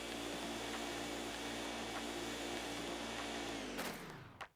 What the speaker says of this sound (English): Use the R button to vacuum with the C stick to change direction